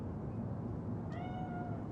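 A cat meows once in the Cyberpunk 2077 video game, a single short, clear meow rising over a steady bed of ambient background noise.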